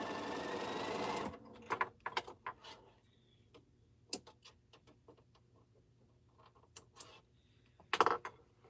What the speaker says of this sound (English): I'm going to go ahead and sew these together instead of stacking them